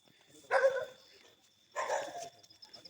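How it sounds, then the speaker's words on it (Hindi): Two dogs bark back and forth at night in the village of Kotlisattiyan, with two short loud bursts separated by a pause and no other sound. "इस टाइम एक जगह से एक कुत्ता बोलता है, उसके मुकाबले में दूसरी जगह से दूसरा कुत्ता बोलता है"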